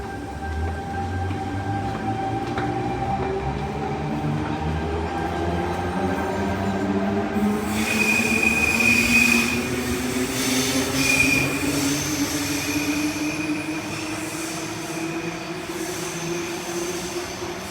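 A train rolls past on a noisy Sydney line with a long steady rumble of wheels on track. Rising tones come in, then a high metallic squeal of the wheels partway through, close and continuous, with no voices.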